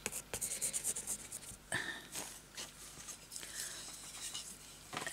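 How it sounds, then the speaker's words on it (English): Pen drawing a line across velvet fabric for a crazy patchwork journal panel, a faint, close scratchy scribbling with short strokes and soft rubbing, heard alone. "So we're going to draw another line down here because I'm going to cut along the lines."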